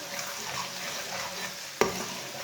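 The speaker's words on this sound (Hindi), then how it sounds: "एक चम्मच कुटा हुआ लहसुन डाल लेंगे। लहसुन को भी थोड़ा सा ब्राउन कर लेंगे।" Crushed garlic sizzles in oil with browned onions in a pan for an aloo palak sabzi, a soft steady frying hiss with light stirring scrapes and one brief clank of the spoon against the pan.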